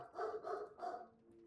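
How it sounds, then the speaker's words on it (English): Two German Shepherds bark three times in quick succession, moderately loud and close, then fall quiet with a faint steady hum left behind. "Oh my god, my dogs are still yapping."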